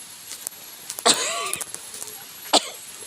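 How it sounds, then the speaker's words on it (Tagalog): A person coughs outdoors, a short burst of a few rough coughs followed by another single cough a moment later, close and fairly loud over a quiet background. "Ay, Diyos ko, inuubo-ubo na ako."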